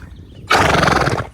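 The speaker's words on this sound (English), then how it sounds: "Thank you for sneezing all over me." A horse snorts out a single loud, breathy sneeze close up, a sudden burst after a quiet moment that tails off within a second.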